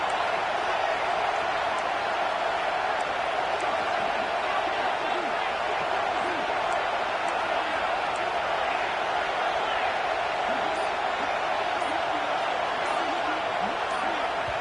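A roaring stadium crowd at a Georgia college football game holds a loud, steady wash of noise throughout, with a commentator's voice faintly beneath it.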